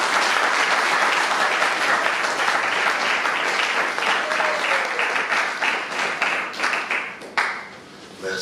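Sustained applause from a large crowd at a conference debate in Kinshasa fills the room, steady and loud, then gradually thins out toward the end.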